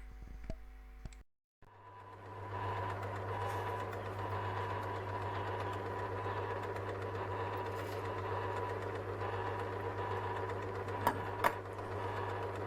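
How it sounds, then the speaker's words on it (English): A mini lathe parting off metal at a slow, steady feed gives a continuous machine hum with a strong steady drone and a busy mechanical texture. It runs unbroken after a brief stop near the start, with a couple of sharp ticks near the end. "Parting off operations are never nice on this mini lathe"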